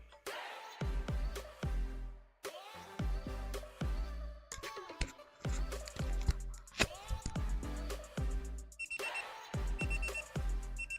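Loud electronic alarm of a cube timer at maximum volume beeping in repeated bursts with short pauses between them, sharp and close, sounding alone without any talking.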